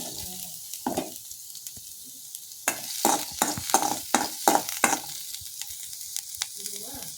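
Chopped garlic sautés in melted butter in a kadai, a soft sizzle broken by a run of distinct scraping stirs that come in a quick rhythmic burst, close and moderately loud.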